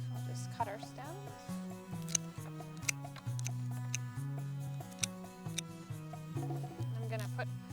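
Scissors snipping flower stems for a bouquet, several short crisp cuts heard close under music and talk.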